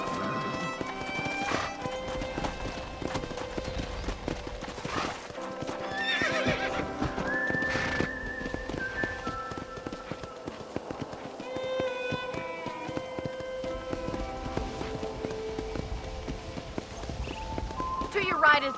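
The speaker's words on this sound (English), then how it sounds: "I picked out a fine horse for you" Horse neighs and hoofbeats in the Red Dead Redemption video game, whinnies over clip-clopping hooves amid game music and ambience, with a voice talking at points.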